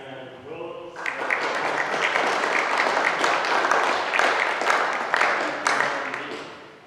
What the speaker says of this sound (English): I'm going to give you a round of applause.